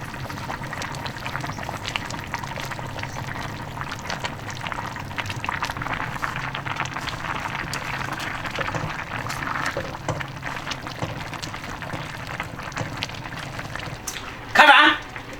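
A clay pot of rice noodles and pea shoots simmers on the heat, a steady bubbling and gurgling boil, close and continuous, with a brief louder clatter near the end.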